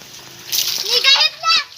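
Water splashing and sloshing as a bucket is filled, loud and close in a few quick bursts, with a voice and other speech over it.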